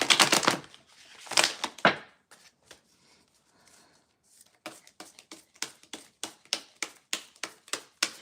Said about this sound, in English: I'm going to shuffle this once